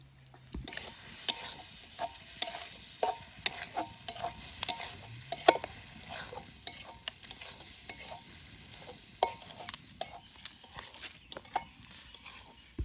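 Mussels are stir-fried in spice paste in a pan over an outdoor riverside fire, with a soft sizzle under repeated scraping stirs and light clinks of a utensil against the pan, all fairly faint.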